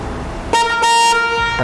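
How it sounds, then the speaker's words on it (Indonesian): A Nissan X-Trail T30 car horn honks loudly twice, a longer blast followed by a second one, close by, with a short third toot starting at the end. "Coba klakson."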